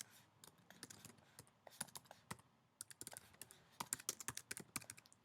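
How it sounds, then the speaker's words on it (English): A computer keyboard is typed on in quick, irregular bursts of faint clicking keystrokes, speeding up toward the end. "I'll type it in, click share."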